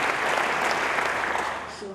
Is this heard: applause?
yes